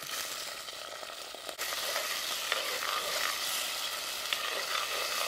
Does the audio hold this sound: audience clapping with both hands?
no